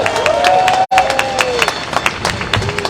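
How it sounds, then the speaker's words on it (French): Outdoor crowd clapping and cheering for a sailing skipper as Ultim trimarans leave port for the 2022 Route du Rhum, lively uneven applause over a steady bustle, with a whistle sweeping through and a brief dropout. "Vos applaudissements, s'il vous plaît, pour le skipper le mieux, Arthur Levaillant."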